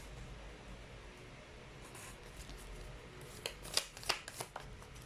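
A deck of tarot cards is shuffled close by, with a quiet rustle that builds into several crisp riffling bursts near the end. No one speaks.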